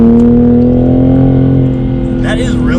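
Toyota Supra A90 on a race track during a warm-up lap, engine held at a steady loud drone from inside the cabin as gas is gently applied, tone holding then easing slightly near the end.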